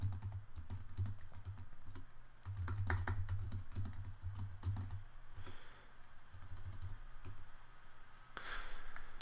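Steady typing on a computer keyboard while editing Swift code, rapid clicking keystrokes in uneven bursts with short pauses, close and clear with no speech.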